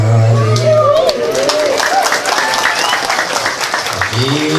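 Audience clapping at an Islamic religious gathering, a steady burst of many hands beneath voices and a low hum, with talk and cheering mixed in.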